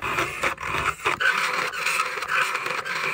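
A cake spatula blade scrapes rhythmically against a sharpening stone, quick rasping strokes repeating close up, with no speech.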